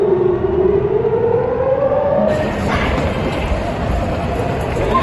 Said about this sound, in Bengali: মিসাইল হামলার প্রভাবে তেল আবিব সহ মধ্যাঞ্চল ও অন্যান্য অঞ্চলে সতর্কতামূলক সাইরেন বেজে ওঠে